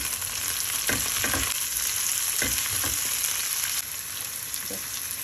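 Chopped onions, pepper and carrot sizzle in olive oil in a frying pan, a loud steady crackle broken by several scraping stirs, with a kitchen extractor fan whirring in the background and no talking.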